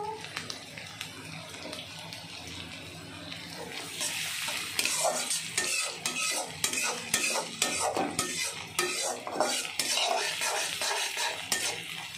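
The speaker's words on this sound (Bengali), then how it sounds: "পেঁয়াজটা হালকা আরেকটু ভেজে নেব, বেশি লাল করবো না" Onions frying in oil in a pan while being stirred, with a steady sizzle and scraping of a utensil that grows louder and busier about halfway through.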